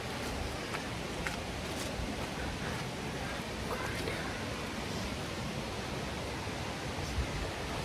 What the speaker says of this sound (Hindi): We have finally made to Dudhsagar waterfall.